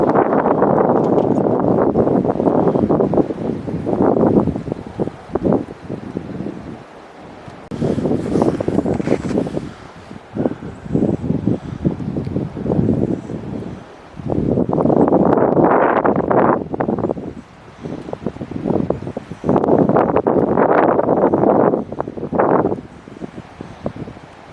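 Cold wind gusts across a lake near a cabin, roaring in long loud buffeting bursts against the microphone with brief lulls between them, and no voices heard.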